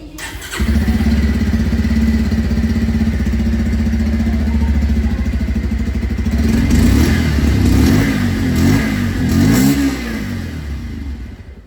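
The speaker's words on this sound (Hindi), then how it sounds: "अब मैं आप लोग को यहाँ पर जो पल्सर है उसकी भी आवाज़ सुना दूँ।" A 2024 Bajaj Pulsar 125 motorcycle engine idles with a steady, throbbing exhaust rumble, then revs up several times in loud, rising bursts, close by.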